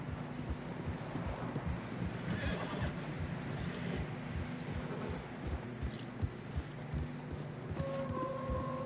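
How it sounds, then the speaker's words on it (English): Horses push through deep fresh snow on a narrow trail. Strong wind noise blankets the whole stretch, with horse snorts and a whinny rising through it. "Horses are struggling."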